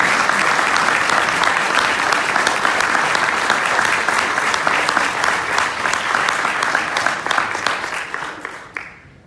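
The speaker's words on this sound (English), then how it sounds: "Bring her on with a round of applause" An audience at a mosque event applauds loudly and steadily for several seconds, dense clapping from a large crowd that then tapers off and stops.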